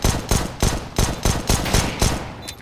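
Counter-Strike gunfire in a match, a loud close rapid burst of about eight evenly spaced shots in steady rhythm, with no talk over it.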